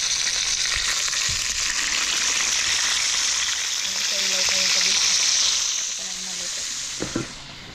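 Talakitok fish frying in a pan during an outdoor catch-and-cook, a loud continuous sizzle with brief clatters, a short voice partway through.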